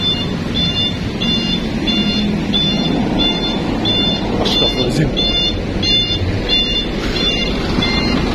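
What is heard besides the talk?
dump truck reversing beeps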